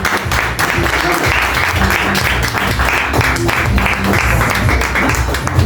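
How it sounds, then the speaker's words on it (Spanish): An audience at a panel discussion on Bolivian rock applauds, dense steady clapping filling the whole stretch with crowd noise mixed in. "Un aplauso, por favor,"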